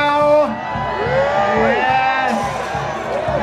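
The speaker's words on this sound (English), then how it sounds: "You're all cheering now." A crowd cheering and whooping loudly at a life-size Mousetrap game event, sustained excited shouts and yells from many voices.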